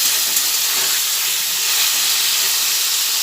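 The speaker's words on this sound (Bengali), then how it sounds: "হলুদ দিয়ে ফুলকপিগুলো তেলের মধ্যে দিয়ে ভেজে নিচ্ছি" Cauliflower florets frying in oil with turmeric make a continuous, bright hiss close by, steady and even throughout with no voices.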